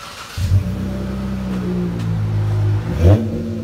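A 2016 Dodge Charger SXT with a 3.6L V6 and Flowmaster Super 44 dual exhaust revs up close by, a deep steady drone that swells and holds, then blips sharply near the end, with no one talking.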